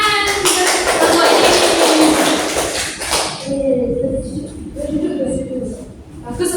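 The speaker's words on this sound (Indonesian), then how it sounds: "Ya, bagus. Tepuk tangan." Children in a classroom clap together in a loud, dense burst for about three seconds, then the applause fades into scattered claps under a teacher's speaking voice.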